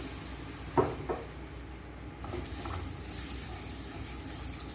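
Hot water poured onto sizzling fried masala for an egg bhapa curry erupts in a sharp spitting burst, then settles into a softer, continuous steamy hiss.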